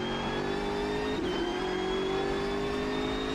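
A BMW M6 GT3 race car in the Automobilista 2 racing game accelerates with a strong, continuous engine whine that climbs steadily in pitch, with a brief gear-shift dip along the way.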